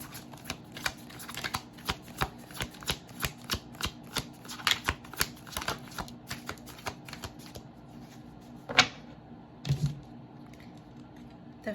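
Tarot cards shuffled by hand in a steady run of crisp, close riffling flicks, then a couple of separate card pulls and slaps near the end, alone without talk.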